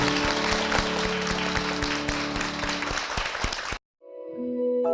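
A church congregation at Sanbon Yangmun Church claps in praise, loud clapping layered over steady sustained tones, then cutting off abruptly into near silence before a quieter tonal sound returns.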